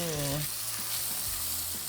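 Chicken sizzles steadily in a hot pan just after being flipped, a close, continuous frying hiss with a few faint clinks, and a voice briefly overlaps at the start.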